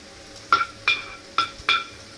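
Dried red chillies dropped into hot tempering oil with mustard seeds for tomato rasam, four short crackling sizzle bursts in an even rhythm, close and clear against a quiet background.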